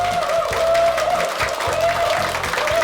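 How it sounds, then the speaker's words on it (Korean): Studio audience applause welcoming a guest on a Korean TV lecture show, a dense, steady roar of many hands clapping throughout, with a faint sustained tone and low background thumps underneath. "큰 박수로 환영해 주시기 바랍니다."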